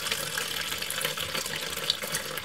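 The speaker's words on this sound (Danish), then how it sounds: "Jeg hælder bare stille og roligt." Apple cider slowly poured by hand from one container into another while racking a sweet cider batch, giving a steady, soft liquid trickle and splash that runs continuously throughout, fairly close, with no voices.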